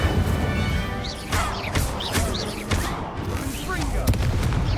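An Incendio fire spell is cast in Hogwarts Legacy during a Crosswands duel: rapid booming blasts and crackling impacts burst one after another, loud and close, with game effects layered over the combat.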